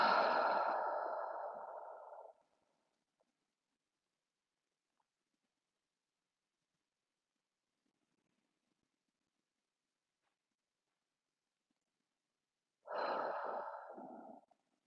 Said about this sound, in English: Taking in 3 deep breaths in through the nose and out through the mouth.